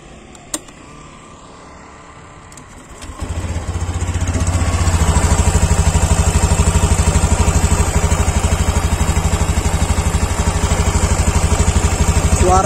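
A Honda Beat Deluxe scooter engine starts after a quiet pause with a hose detached, then settles into a loud, close, steady idle with a rhythmic chug.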